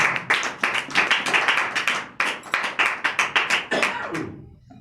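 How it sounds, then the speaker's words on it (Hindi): An audience claps in bursts at a religious talk, rhythmic rounds of loud, close hand-clapping with brief pauses between waves before fading out at the end. "जोरदार तालियों में,"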